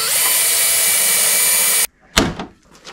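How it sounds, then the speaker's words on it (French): Power drill whirring loud and steady for almost two seconds, then cutting off abruptly, followed by a few clunks and knocks of handling. "Sortir la perceuse."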